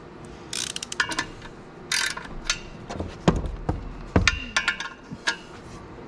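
A ratchet running in the clutch bolts on a Camaro during a T56 clutch replacement, heard as close, irregular bursts of quick metallic clicking separated by short pauses and a few sharper knocks.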